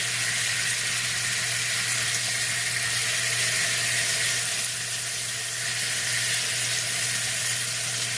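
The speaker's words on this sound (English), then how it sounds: "now that we're searing it, the salt and pepper will stick a little bit better" Country style ribs sear in a hot pan on a stovetop, giving a loud, unbroken sizzle that stays even throughout, steady hiss over a low hum, with no voices.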